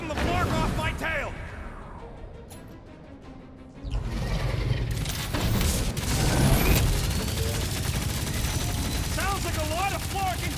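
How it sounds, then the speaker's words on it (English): Video game combat from Guardians of the Galaxy: dense bursts of gunfire and blasts crackle and boom continuously amid a loud, chaotic battle mix, with voices heard within the din. "Sounds like a lot of flark and gunfire."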